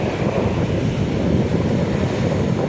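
Rough sea surf rolls in with a steady, loud roar of breaking waves mixed with wind buffeting the microphone, continuous and close, no talking.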